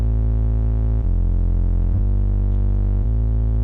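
Sustained sine bass from a GreenWave synth with built-in saturation and overdrive, a loud, thick low drone that shifts pitch every second or so, alone without voices.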